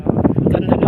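Outdoor wind buffets a handheld microphone on an early-morning walk, a loud, steady rush of gusty noise with no clear talk.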